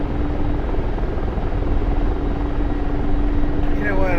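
Steady, close rotor and turbine drone of a Mi-24 Hind helicopter on a short landing approach in the flight simulator DCS, a constant loud hum with a faint voice over it near the end.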